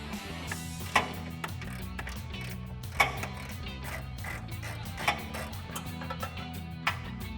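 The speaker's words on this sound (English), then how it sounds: "We're gonna grab a ratchet for this one and remove it." A ratchet removes the top bumper nut on a RAM 1500 with steady, quiet ticking clicks, broken by a few sharper clacks spaced a couple of seconds apart, and no talking.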